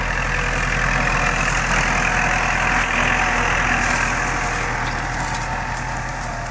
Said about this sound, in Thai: คลิปนี้พาพี่น้องมาดูรถไถครับคูโบต้า l c 7 0 8ครับ